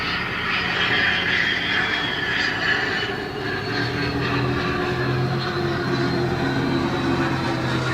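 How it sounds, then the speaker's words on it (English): Jet airplane passing low overhead along a flight path, a loud sustained roar that shifts in pitch as it goes by, heard from inside a Tesla Model S Plaid with no talking. "And of course, here comes a plane."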